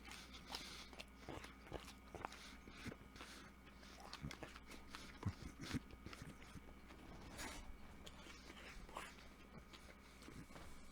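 Crunchy bites and chewing of a Burger King Spicy Ch'King fried chicken sandwich, heard as several sharp, close crunches spread over a quiet background.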